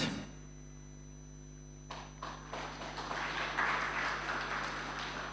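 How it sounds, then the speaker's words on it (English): An audience at an environment day event applauds as panel experts are invited onto the stage: a few scattered claps at first, then steady broadband clapping over a constant electrical hum. "Keep clapping."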